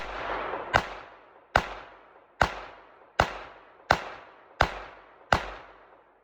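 A 1911 pistol fires at a pizza box in eight evenly spaced, sharp reports about a second apart, each with a ringing outdoor decay.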